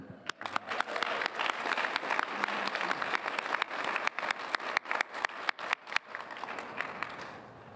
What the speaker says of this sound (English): How about some applause for our roundabout chair and leader?